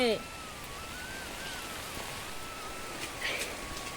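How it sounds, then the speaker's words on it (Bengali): Light rain patters in the background under a faint steady hiss, with a brief voice at the start and a few faint tonal sounds. "আর নেবো না আর নেবো না বৃষ্টি এসে গেছে"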